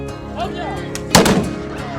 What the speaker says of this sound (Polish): Można było zobaczyć, a także usłyszeć, wystrzał XVII-wiecznego muszkietu.